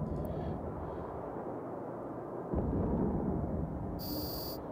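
Weapons fire in Eve Online destroys an enemy ship with a deep, continuous rumbling roar that swells partway through, then a brief bright electronic tone near the end.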